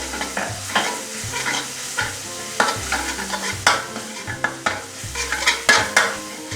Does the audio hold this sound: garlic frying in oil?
yes